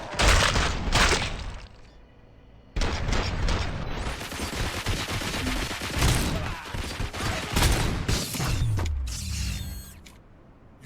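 Bursts of gunfire and mechanical clanks in the video game Robocop: Rogue City, loud and close, with repeated sharp volleys spread across the scene amid creaking, rattling effects and low booms.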